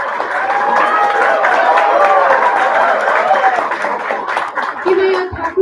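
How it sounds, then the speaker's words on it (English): Graduating MCA students clap at a college degree distribution ceremony, a steady wash of crowd applause in a large hall with voices mixed in and a few louder claps near the end. "the graduating students MCA, you clap for your friends."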